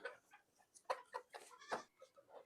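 Free-ranging village chickens in a rural Bangladeshi yard cluck in short, uneven bursts at close range, a few louder calls standing out over quiet background.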